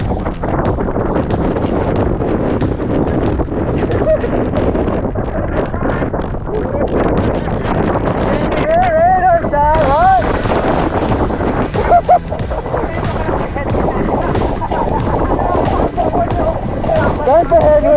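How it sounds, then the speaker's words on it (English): A strong headwind buffets the microphone with loud, continuous low rumbling gusts outdoors as wind and rain arrive. Voices talk throughout. "That's the headwind, huh?"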